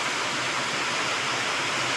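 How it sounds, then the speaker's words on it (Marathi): Steady, dense hiss of unseasonal rain pouring down, broadband and unbroken throughout, close and fairly loud with no voices, during a storm at Shelve, Maharashtra. "आता अवकाळी पाऊस पिळवी या ठिकाणी सुरू आहे"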